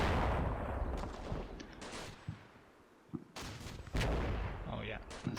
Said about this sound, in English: It's the first mortar coming in.